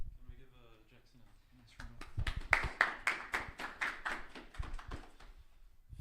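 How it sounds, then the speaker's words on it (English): A small group claps at a university engineering exam-review session, a short burst of dense clapping that swells and fades after some quiet speech at the start. "Can we give Jackson a nice round of applause?"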